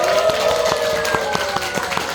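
A church congregation at a winter revival gathering in Korea applauds in a steady patter of handclaps, with rhythmic clapping spread across the room and an electronic tone sustained beneath it.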